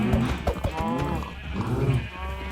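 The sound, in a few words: cows mooing in Minecraft video game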